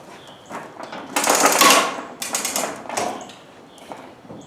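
A ratchet hoist clicks and grinds as it pulls a Jarocin mill onto a trailer in a shop, close, uneven bursts of mechanical ratcheting and metallic rattling with brief pauses.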